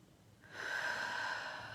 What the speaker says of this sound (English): See if you can take a little deeper breath on the next one.